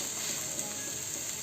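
A spiced masala for Kolhapuri misal sautés in a pan, giving a steady, even, close sizzling hiss with no talk.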